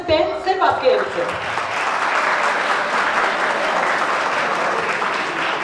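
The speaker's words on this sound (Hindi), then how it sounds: "एक बार हम जोरदार तालियां सुन सकते हैं सिर्फ आपके एंड से." A crowd at a college fest breaks into loud, dense applause and cheering, preceded by a brief burst of voice, then holding steady and strong throughout.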